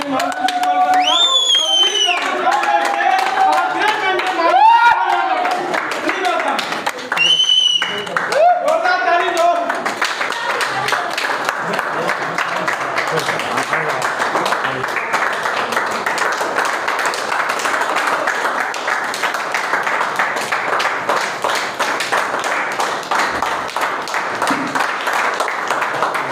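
Loud, dense clapping from the audience at a community meeting in a guest house, running continuously for the whole stretch, with voices shouting over it early on.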